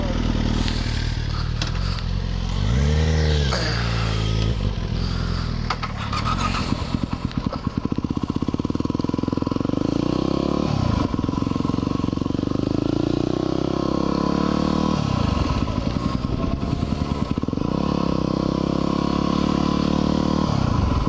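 Motorcycles, one apparently a Suzuki GSX-R 1000, pull away together, engines revving up and rising in pitch, then steady riding with repeated shifts and throttle swells, loud and close throughout.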